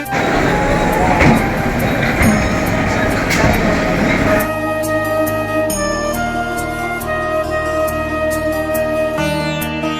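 A Budge Budge local train running out of Sealdah gives a loud, close rumble that settles into a steady electric hum and whine, with voices mixed in.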